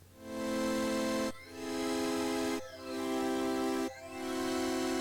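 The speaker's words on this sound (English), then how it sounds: "this plugin that lets you change the dynamics of your waveform" A synth plays sustained straight notes through a dynamics-shaping plugin: four long held chords, each swelling up from near silence and holding loud, with brief dips where the volume envelope restarts.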